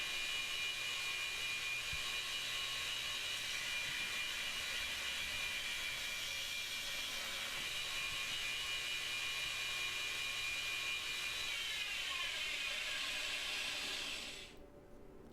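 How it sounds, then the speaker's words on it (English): Bowie style knife blade having its bevel ground, producing a continuous high, hissing grinder whine with a faint hum beneath, steady for most of the stretch before cutting off abruptly near the end. "the one that I'm grinding right now. This is a Bowie style knife."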